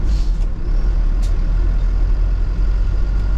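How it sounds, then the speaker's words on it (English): Truck at a bauxite mine idling nearby, a loud, steady low rumble with a couple of brief hissing air bursts near the start and middle. "I know the truck is still there"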